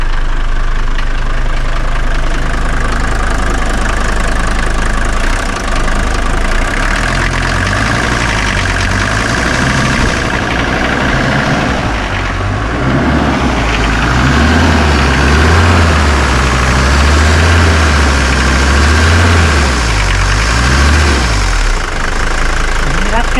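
A Mercedes engine idles steadily right after starting, a low continuous rumble with some knocking texture, while people talk over it throughout.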